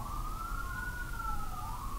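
An emergency vehicle siren wails outdoors, its rising and falling tone sweeping steadily over a low traffic rumble, moderately distant and continuous with no one talking.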